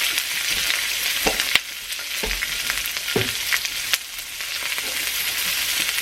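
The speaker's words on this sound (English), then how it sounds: "now we're going to add vegetables to this and get these cooking up" Vegetables stir-fry in a wok of pad thai over lowered heat, giving a steady close sizzle with scattered clinks of utensils against the pan throughout.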